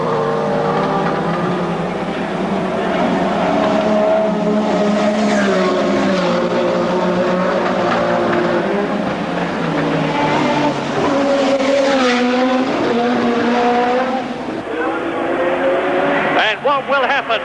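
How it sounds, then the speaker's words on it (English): A 1984 Formula 1 car screams past on the Monaco street circuit, a loud high engine wail with shifting pitch under continuous commentator talk. "And there goes Senna, and it's only 7 seconds now"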